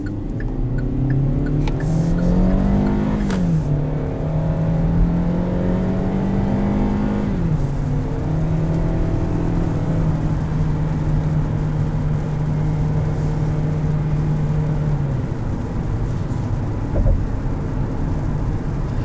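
A 2020 Kia Sorento LX drives steadily in smart mode, its engine drone holding a sustained pitch with a couple of gear-change dips and slight rises, heard from inside the cabin and continuous throughout with no talking.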